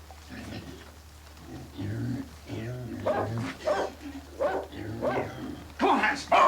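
A dog barks and yips in repeated short bursts amid urgent shouting from several people, the barking close and excited under and between the voices.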